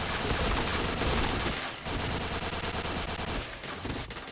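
Video game gunfire rattles loud and nearly continuous, with dense automatic bursts that dip briefly and then resume.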